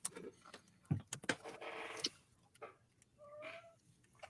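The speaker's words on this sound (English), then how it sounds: "I do hear a kitty." A cat meows near a crackling outdoor bonfire during a winter evening, a short rising call, plus a quieter second one, standing out over low background noise and scattered clicks.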